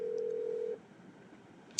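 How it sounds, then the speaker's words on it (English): A telephone line during the placing of a call to a radio guest: a steady tone holds for under a second, then cuts to quiet line hiss, ending with a brief sharp click. "let me call ahead and get my guest on the line, and let me see if I can find him on the phone"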